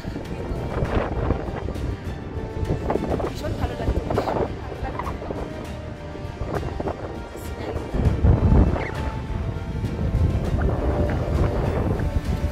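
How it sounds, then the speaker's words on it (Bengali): Steady gusty wind rushes and buffets the microphone throughout on the road from Khalsar to Pangong Lake in Ladakh, with a person speaking briefly over the roar. "মারাত্মক হাওয়া, ছোট্ট হাওয়া দিচ্ছে"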